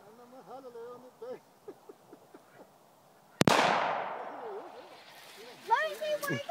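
A single loud gunshot cracks at a shooting range, ringing out with a long decaying tail, while people talk before and after it.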